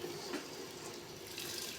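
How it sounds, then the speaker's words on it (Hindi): Rice is poured into a pot of boiling water for sweet jaggery (gur) rice, giving a faint, continuous watery rushing and bubbling hiss. "पानी बोल है, चावल डाल रहे हैं।"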